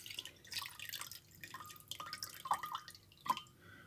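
Vinegar is poured out of a soaking container, heard as faint, close dripping and trickling with irregular small splashes and drops, quiet and with no speech.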